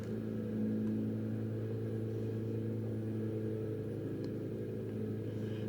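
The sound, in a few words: lawnmower running in the background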